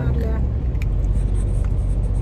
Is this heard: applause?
no